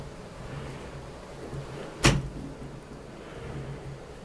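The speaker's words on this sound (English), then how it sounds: "Sliding doors." Sliding closet door in a hotel room at the MGM Excalibur, a single quick rolling thud as it is pushed along its track, close and fairly loud against quiet room tone.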